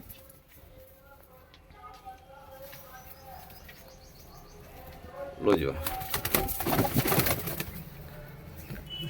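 Punjabi Malai Chhatri pigeons for sale in Ludhiana coo softly in soft repeated calls, with someone talking nearby and, midway, a burst of loud wing flapping and rustling close to the microphone.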